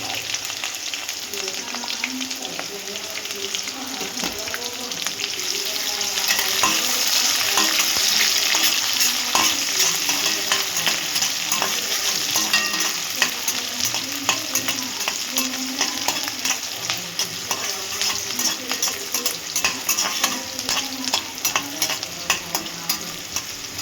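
Onions roast and fry in oil with cumin and mustard seeds for a potato curry, a continuous loud sizzle broken by frequent scraping stirs of a spoon in the pan, close up and without talk.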